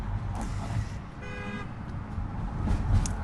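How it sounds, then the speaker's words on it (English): A car horn sounds once in a short, steady blast over continuous busy Chicago road and traffic noise. "So somebody got honked at."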